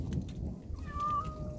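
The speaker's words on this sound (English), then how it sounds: "we got a kitty meowing" A cat gives a faint, drawn-out meow over outdoor background noise at an Earthship build site, close but quiet.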